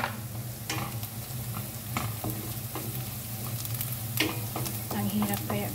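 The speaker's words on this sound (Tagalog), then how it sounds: "Igisa lang natin hanggang magiging brown." Garlic sautés in a hot pan toward browning, giving a continuous sizzle with frequent sharp clicks and scrapes from stirring, and a low hum underneath.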